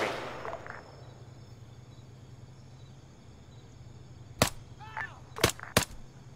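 Gunfire in a military campaign video game sounds as a few sharp, loud cracks near the end. Before them is a quieter stretch with a low hum and a brief opening burst.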